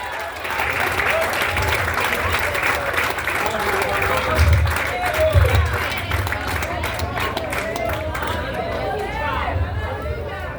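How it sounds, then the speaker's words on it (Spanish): Sustained applause from a large audience, steady clapping with crowd noise and a few raised voices, swelling briefly midway before settling. "Dale un aplauso fuerte al Salvador"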